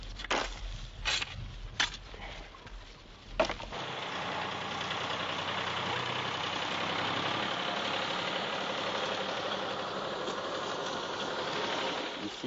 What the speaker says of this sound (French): Ici, nous avons un tracteur de 50 chevaux.